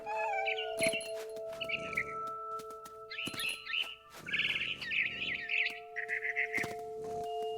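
A cat in the video game What Remains of Edith Finch gives a series of short meows and chirps over a steady game ambience with sustained tones, alongside fluttering bird-like calls.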